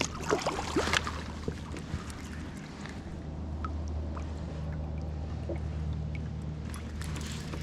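A kayak paddle strokes through river water during a fishing outing, with a few close splashes at the start that give way to softer dripping, gentle water movement and wind.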